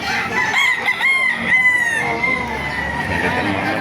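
Gamecock roosters crow loudly and close by at a chicken market in Baliuag, Bulacan, one long drawn-out call overlapping others, with faint clucking in the background.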